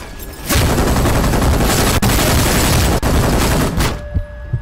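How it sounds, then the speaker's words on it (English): Dense, continuous gunfire fills a firefight in the video game Brink, with overlapping shots and booms at close range. It runs loud for about four seconds, then cuts off sharply. "Alright, where am I getting shot from?"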